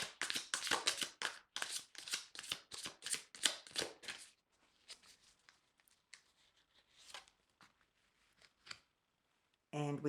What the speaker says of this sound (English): This is the second shuffle.